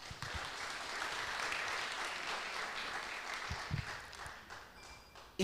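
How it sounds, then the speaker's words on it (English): A live pitch-event audience applauds for a speaker, steady dense clapping from a crowd filling the room at even strength before tapering off near the end. "You can clap again for Victor Manev"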